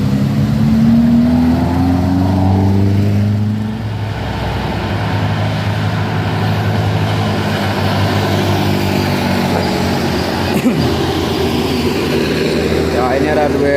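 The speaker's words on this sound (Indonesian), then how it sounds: "Ada mobil Jimmy." A Suzuki Jimny engine revs on a steep hillside road, a steady loud motor drone with a rising whine early on and a sharp burst near the end, while voices talk over it.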